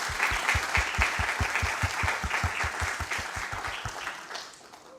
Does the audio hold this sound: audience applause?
yes